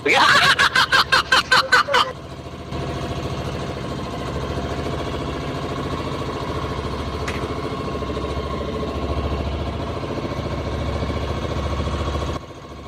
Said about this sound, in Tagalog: Paminawan ninyo ang tingog sa makina mga kasidik